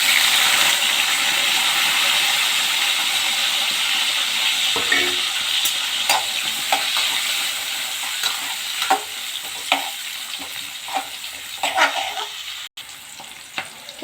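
Onion and dried chili fry in oil in a kadai, giving a loud continuous sizzle that gradually softens, with frequent scraping and stirring clatters from a spoon against the pan.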